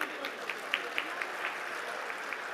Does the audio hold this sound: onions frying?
no